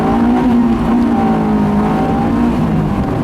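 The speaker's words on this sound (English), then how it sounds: "I'm gonna drive this car around all afternoon." A Honda S2000 being driven on a sunny day, its engine giving a steady, loud drone with a sustained tone that barely shifts across the whole stretch, heard from inside or close by with no talking.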